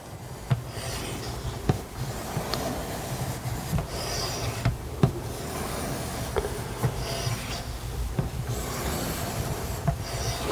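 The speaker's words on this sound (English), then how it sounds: "So when you're using these stones, you want to try to use the whole stone end to end." A CPM 3V steel knife is drawn across an EdgePro Apex sharpening stone in repeated close rasping strokes, a continuous scraping texture with faint periodic ticks as the blade resets.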